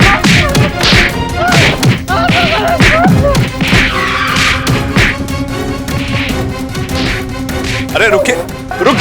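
A mob in a courtroom drama beats a lawyer, with rapid repeated thwacks and thuds, loud and close, mixed with shouting voices and scuffling.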